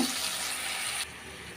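A tumbler of water pours into a pan holding crushed dry ginger, a close, splashy rush lasting about a second before it abruptly stops, with no talking.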